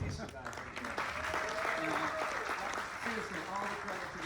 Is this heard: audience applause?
yes